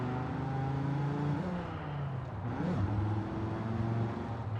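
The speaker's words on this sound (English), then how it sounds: "it's really a Volvo, yeah, but the engine sound is like an Audi" Volvo car engine in a PC racing sim, a steady moderately loud drone that rises and dips in pitch as it revs, continuous throughout with no voices.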